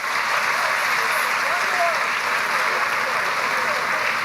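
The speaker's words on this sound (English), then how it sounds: "can we get that big round of applause again?" A large audience at a university student orientation claps in a dense, steady round of applause that fills the room evenly from start to finish.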